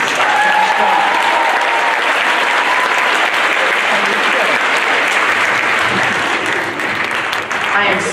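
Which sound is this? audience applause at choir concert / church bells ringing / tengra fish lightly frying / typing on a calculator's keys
audience applause at choir concert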